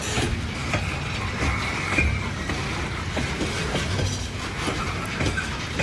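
A long coal train rolls past in Kenova, steady rumble with repeated clickety-clack of wheels over rail joints, close and loud throughout.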